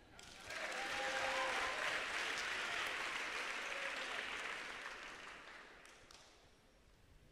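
Applause from a church congregation swells quickly into a steady, dense wash of clapping that fades gradually toward the end, heard alone without speech.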